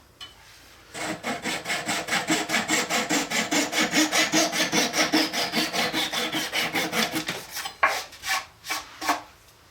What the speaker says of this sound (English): a flush cut saw makes pretty short work to trim them up and get them cut nice and flush